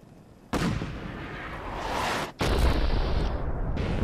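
Artillery strike fired in Fallout 4: a sudden heavy boom followed by a long rumbling roar, then a second thunderous blast that rolls on loudly, with no voices over it.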